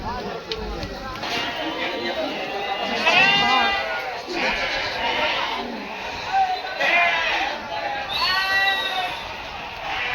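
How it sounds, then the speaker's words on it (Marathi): Several sheep bleat repeatedly, some loud and close, others farther off, over the busy murmur and voices of a crowded livestock market in Chakan. "तिकडे सगळे मोठे मेंढ्या विकायला"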